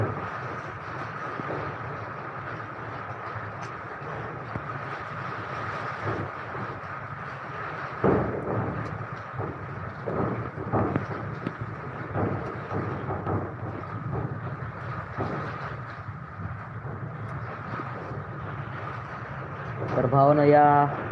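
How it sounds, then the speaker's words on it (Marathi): Heavy monsoon rain with thunder and strong wind, a dense continuous roar with a few deeper rumbling swells and a louder gusty surge near the end. "कसला पाऊस चालू झालेला आहे मुसळधार विजा पण लई मारायली ते वारा पण सुटत आहे"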